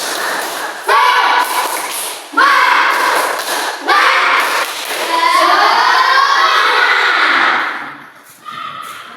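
Children in a Grade 4 Islamic-school classroom chant together and clap in rhythmic bursts, loud and close, with several repeated clapping phrases leading into a longer sung-out call.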